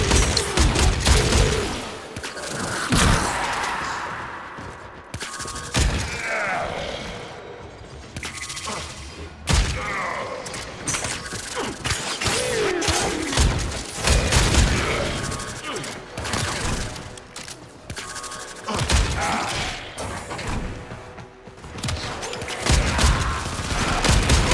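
Dense, rapid gunfire from the video game Warframe during solo survival gameplay: near-continuous bursts and volleys with thuds and mechanical clatter, loud and steady across the whole stretch.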